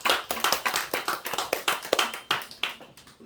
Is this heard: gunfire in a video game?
no